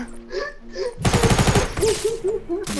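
A rapid burst of video game gunfire crackles out as a string of quick, evenly spaced shots, with brief voices and vocal sounds before and after it.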